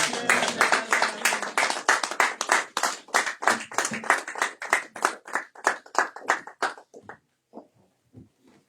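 A church congregation claps in a brisk, roughly steady rhythm for several seconds, loud and close, then the clapping thins out into a few scattered claps and fades away.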